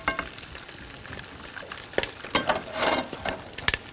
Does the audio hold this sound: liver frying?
yes